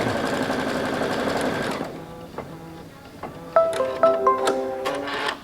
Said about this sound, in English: We'll drop the foot, and then we'll sew that straight line.